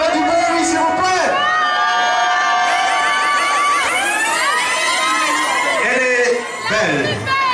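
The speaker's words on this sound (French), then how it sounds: "salve d'applaudissements" A loud live crowd greets a singer with sustained cheering, shrill whistles and excited shouting that rise and fall in pitch, filling the space without pause.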